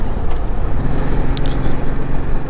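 A Honda VTX 1800 cruiser motorcycle with an 1800cc engine, heard while riding: a steady, loud low rumble blended with wind rush, continuous throughout with no speech.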